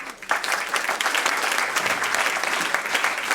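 An audience claps at a citizens' meeting on metropolitan issues in Rezé, a dense burst of applause that stays loud and steady for a few seconds and is heard on its own without talking.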